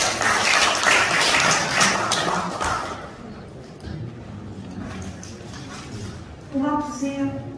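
Applause from an audience at a 2021 civic reunification event welcomes performers, dense clapping loud at first then thinning out, followed by a voice speaking over the crowd.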